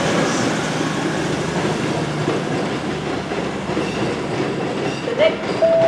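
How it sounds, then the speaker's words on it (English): A three-coach train at Stockport railway station, heard as a steady rumble of wheels and engine under platform ambience, fairly close and loud, with a brief squeal or tone near the end and faint voices. "This train is formed of 3 coaches."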